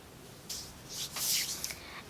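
Sunscreen rubbed over the back of the hands in a short skincare routine: soft, close swishing friction strokes in a few brief bursts, quiet and alone with no talk.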